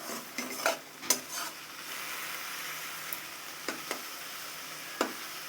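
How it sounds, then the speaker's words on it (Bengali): Ground dondokolos leaves frying in a pan, heard as a few sharp spatula scrapes and clinks over a faint, low sizzle, quiet and close, with no voices. "একটু ভাজা ভাজা করে নিব আমরা জলটা শুকিয়ে গেলেই আমরা নামিয়ে নেব"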